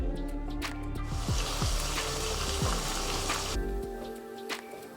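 Brinjal (eggplant) frying in oil in a covered pan, a steady close sizzle with faint stirring clinks throughout.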